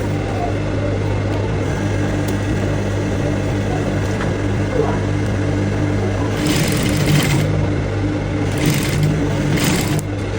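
Sewing machine running steadily while stitching an Ankara fabric gown, a continuous close mechanical hum throughout with brief louder bursts of motor activity near the end, no talk.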